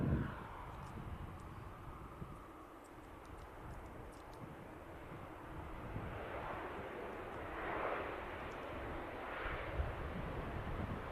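A Loganair airliner on short final approach into Manchester Airport, arriving from Seville: a steady broadband jet roar that rises and swells toward the end of the approach, heard alone at moderate distance.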